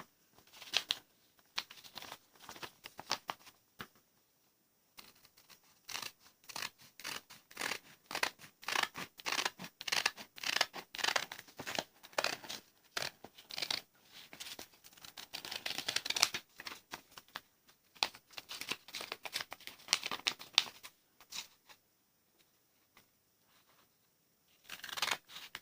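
Scissors cut through paper or fabric along a marked line for a sleeve pattern, giving dense runs of quick crisp snips close up, with brief pauses between bursts and no talking.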